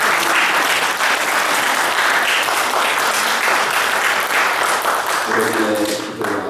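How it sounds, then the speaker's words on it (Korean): A church congregation at a Korean Sunday worship service claps to welcome the pastor's wife, dense and loud applause close by that holds steady, with a voice starting to speak as it fades near the end. "우리 그 자리에서 그냥 우리 박수로서 환영합니다."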